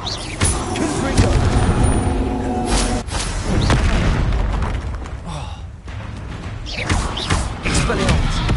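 Confringo blasting spells go off in Hogwarts Legacy on PS5, heavy booming explosions with thuds and crashes in quick succession over game combat noise.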